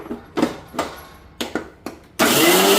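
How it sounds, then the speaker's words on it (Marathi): A mixer grinder crushes garlic for Kolhapuri onion-garlic masala. A few short pulses of the motor start and stop, then it runs loud and steady for its last moment. "आता लसूण बारीक करून घेऊया"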